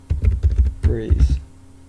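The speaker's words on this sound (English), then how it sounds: "open up the terminal and type in sudo" Quick, rhythmic clacking of a computer keyboard as a terminal command is typed on an Arch-based Linux system, a run of close, firm keystrokes with a voice speaking partway through.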